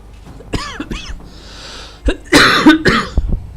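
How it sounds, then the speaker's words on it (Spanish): Several harsh coughs and throat clearings burst out close to the microphone in irregular fits, with a louder cluster of hacking near the end. "Joder, la tos."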